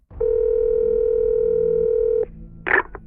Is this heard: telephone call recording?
yes